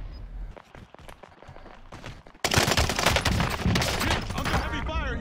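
Gunfire in a Call of Duty match opens as scattered sharp shots and steps, then breaks into a dense, loud burst of rapid automatic fire that runs to the end.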